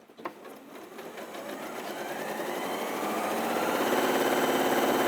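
An Elna 78 sewing machine stitches at about 1,250 stitches a minute under foot-pedal control, giving a steady, close mechanical whir that builds slightly in loudness and runs alone throughout.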